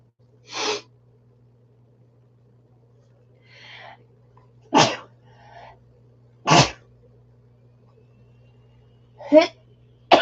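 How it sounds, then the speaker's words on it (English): A series of sharp sneezes, about four, bursts out with quiet pauses between them, close and loud, with a low steady hum underneath. "I'm going to sneeze."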